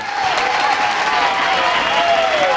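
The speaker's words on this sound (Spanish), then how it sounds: "La afición aplaude." A football crowd in a stadium at a men's national games match applauds loudly and continuously, a thick wash of many hands with a faint thin tonal whine drifting through it.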